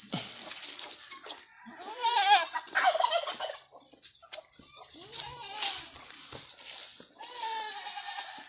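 A goat on a small Philippine farm under flowering mango trees bleats in repeated wavering, nasal calls, fairly close, mixed with other fowl-like farm animal noises and no talk.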